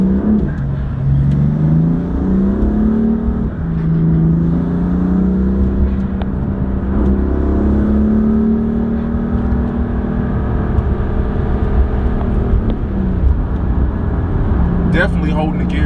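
BMW-style car running a Bootmod3 GTS transmission tune accelerates hard, its engine note climbing and holding gears long, loud and close, with someone talking over it.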